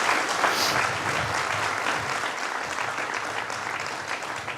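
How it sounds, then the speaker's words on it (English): Warm, dense applause from an audience at a state fair announcement event, continuous and steady for several seconds with no speech on top. "Give him a big round of applause"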